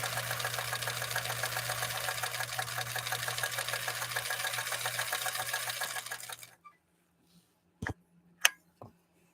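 A 1954 Husqvarna sewing machine stitches leather at full speed, a loud steady rapid mechanical chatter with a low motor hum for about six seconds, then stopping abruptly, followed by a few isolated clicks and knocks.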